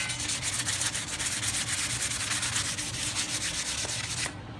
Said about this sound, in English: we're going to scuff it up with some 180 just to get it to where the paint will stick well